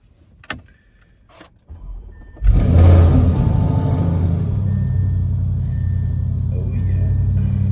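Car engine and road rumble heard from inside the cabin, starting after a few soft handling knocks and rising into a steady, loud drone as the vehicle pulls away and keeps driving.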